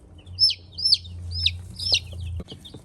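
Olive egger chickens in an Ozark Mountains flock give four quick, high, squeaky clucks in an even rhythm, close and fairly loud over a low steady hum, followed by a couple of soft knocks.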